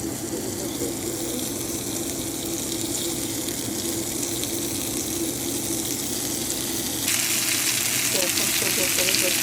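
Chicken pieces fry in a pan with a steady, loud broadband sizzle throughout, brightening and intensifying in the last couple of seconds; no one speaks.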